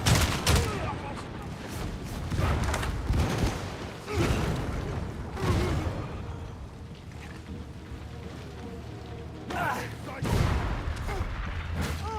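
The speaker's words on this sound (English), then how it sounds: "this is not the gun I thought it was" Gunfire in the video game Warhammer 40,000: Darktide, a string of loud, booming bursts with heavy low-end rumble, clustered in the opening seconds and returning near the end over a continuous noisy game backdrop.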